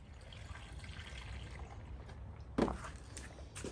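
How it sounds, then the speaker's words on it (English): Water poured into the cooling system of a 1999 Cadillac Escalade during a water pump replacement, a faint trickling fill with a brief louder splash partway through, no voices. "So let me fill this up with some water."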